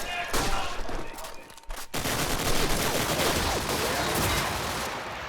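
Rapid gunfire fills a first-person shooter match played at a LAN tournament: dense crackling bursts and shots through walls run almost without a break, loud and continuous over a steady game ambience.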